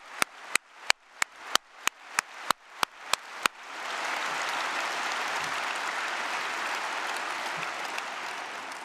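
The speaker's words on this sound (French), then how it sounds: "laissez-nous vous applaudir vous." Audience applause breaks out and builds into a dense, sustained wave of clapping from a crowd, loud and even, after a few separate sharp claps at the start.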